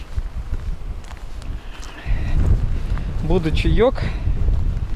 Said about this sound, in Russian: Такой сильный ветрище.